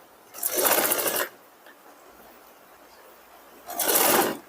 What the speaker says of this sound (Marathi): खालच्या साईडनं एकदम परफेक्ट अर्धा इंच एवढं मार्जिन सोडून आपल्याला इथं शिलाई मारून घ्यायची आहे